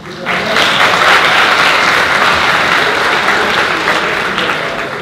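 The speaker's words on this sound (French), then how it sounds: "applaudissez si vous aimez énormément Monsieur Boniface." Sustained, loud applause from a conference audience, a dense continuous wash of many hands clapping that holds steady across the clip.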